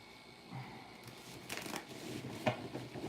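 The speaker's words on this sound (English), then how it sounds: "That was like the longest shuffling ever." Playing cards are shuffled quietly, with soft riffling bursts and a few crisp snaps against a faint background.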